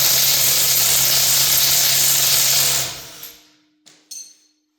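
A DeWalt power tool spinning off wheel lug nuts during a Tesla tire rotation runs as a loud, steady whine for nearly three seconds, then winds down, followed by two brief sharp bursts of the tool.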